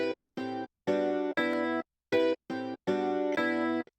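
Beat pattern made from chopped guitar note samples, a series of short, bright, pitched stabs in a rhythmic on-off sequence with gaps of silence between the hits.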